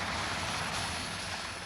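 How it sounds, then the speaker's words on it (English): A Royal Navy Westland Sea King helicopter flies on a test flight, giving a steady broadband engine and rotor roar of even loudness that carries without a break for under two seconds. "This is a new Westland Sea King, which will be used by the Royal Navy for submarine hunting."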